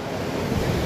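Ocean surf rolling in beneath a pier on an overcast day, a steady continuous wash of breaking waves with wind noise on the microphone, fairly loud and without voices.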